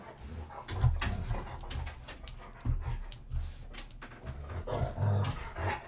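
A dog panting and whimpering close by, with bursts of heavy breathing and thin whining cries recurring unevenly over several seconds, no talk.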